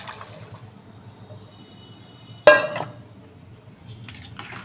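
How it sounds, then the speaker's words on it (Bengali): Boiled peas tipped into a pan of frying spice paste make a sudden loud sizzling splash midway, fading over about half a second, with faint kitchen clatter around it. "এই যে এবার আমি সেদ্ধ করা মটরগুলো দিয়ে দেবো"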